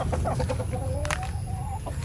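Native chickens cluck and murmur close by, with short repeated calls over a steady outdoor background.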